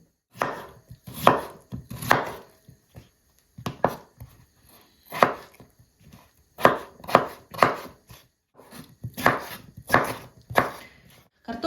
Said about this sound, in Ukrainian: Поки наше м'ясо буде варитися, ми зараз наріжемо картоплі.